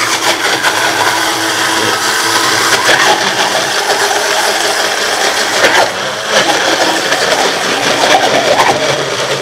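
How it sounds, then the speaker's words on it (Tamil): Electric fruit juicer running with cut fruit fed in, a steady loud whirring motor grind with rattling, churning texture throughout, no voices. "இந்த பழம் மிஷினை ஓட விட்டுட்டு இது டைரெக்டாக உள்ளே போட்டுங்க"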